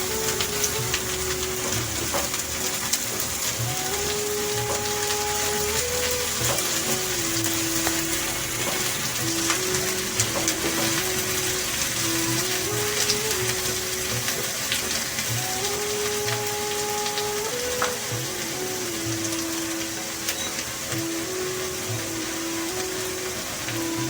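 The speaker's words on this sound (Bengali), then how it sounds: "সেই কাঁচা লঙ্কাটাও আমি এর মধ্যে দিয়ে ভালোভাবে ভেজে নেব" Slit green chillies fry in a pan of oil, giving a steady, close hiss and sizzle that runs unbroken throughout, with faint tonal sounds behind it.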